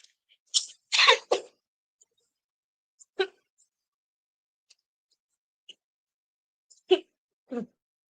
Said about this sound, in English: I'll be back because I got a cough